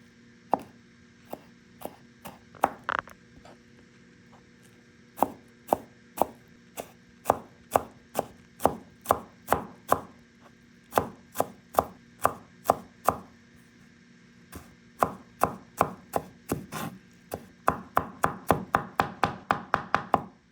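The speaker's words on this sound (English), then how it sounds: "if you think it's not fine enough, you can do more chopping" A cleaver chops pork and cabbage filling for steamed buns on a board in rapid, evenly spaced knocks, pausing now and then and speeding into a fast flurry near the end, close and loud with no talking.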